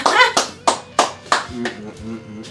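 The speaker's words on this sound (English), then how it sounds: "I'm going to give myself a round of applause." One person claps hands in a short run of about six sharp, close claps at a loose rhythm in a home kitchen. The claps fade slightly toward the end while a voice murmurs faintly underneath.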